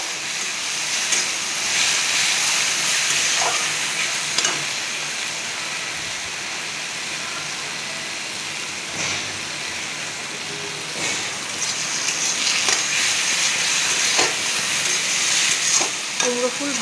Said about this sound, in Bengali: ভালো করে ভেজে নিচ্ছি এখন।